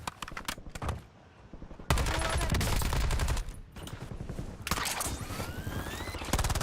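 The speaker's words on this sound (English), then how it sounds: "Switching mags" A weapon magazine swap in the shooter game Warzone, with short mechanical clicks and clacks mixed into dense, loud bursts of nearby automatic gunfire.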